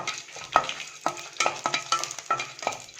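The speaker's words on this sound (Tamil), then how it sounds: "எல்லாம் சேர்ந்து ஃப்ரை பண்ணிக்கோங்க." Chana dal, garlic, dried red chillies and a small piece of tamarind fry in a pan, a soft sizzle broken by repeated scraping stirs in an irregular rhythm, close and without talk.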